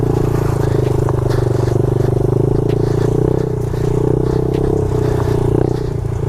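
A dirt bike ridden in first gear runs at a steady, loud, buzzing engine note close by, with a slight dip midway and faint clatter on top, no talking.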